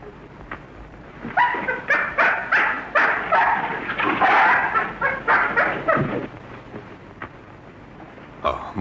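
Dog in a Spanish-language film scene that has just been struck hard, giving a run of sharp close barks mixed with whimpering yips, loud and repeated over several seconds with a faint voice underneath.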